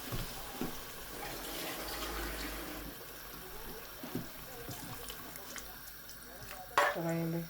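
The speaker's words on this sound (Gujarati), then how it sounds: "ચાલો નાખી દઈએ પાણી." Water pours steadily into a pan of cooked spice masala with a broad splashing rush, alongside faint kitchen clatter and a brief sharp clink near the end.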